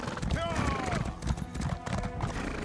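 A horse in Elder Scrolls Online gallops with rapid, rhythmic hoof clops and a brief whinny, close and loud, while someone talks over it.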